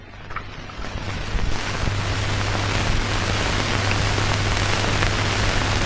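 Shower water runs steadily while someone bathes, a dense continuous hiss that swells after the first second and holds even, with a faint low hum underneath.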